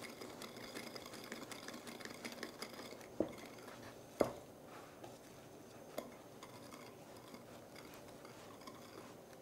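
Crème pâtissière being stirred in a pan, with soft scraping and a few sharp clinks of the utensil against the metal over a low, steady background hum.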